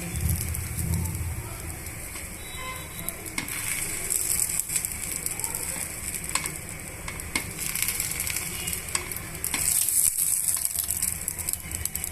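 Onion dosa frying on a hot pan, a continuous crackling sizzle with occasional light scraping, close and fairly loud throughout.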